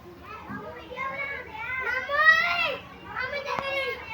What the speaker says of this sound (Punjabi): ਨਿਆਣੇ ਦੇਖੋ ਜੀ ਰਸ਼ਕੇ ਤੇ ਚੜੇ ਹੋਏ ਆ